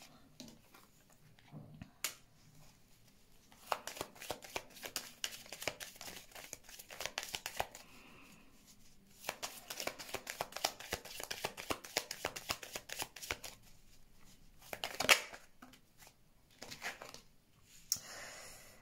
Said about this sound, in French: On va voir un peu avec les cartes.